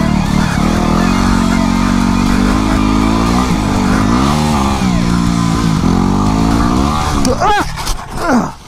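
Ducati XDiavel motorcycle engine running loud and close at a steady, throbbing idle, with a couple of blips and revs near the end, while a person talks over it.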